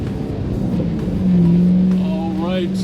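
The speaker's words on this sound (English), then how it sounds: "All right, here we go, a little fun, spirited driving." A 2011 Shelby GT500 with a 750 hp Whipple-supercharged engine is driven hard, its loud close drone swelling into a sustained rising whine, with a voice speaking over it near the end.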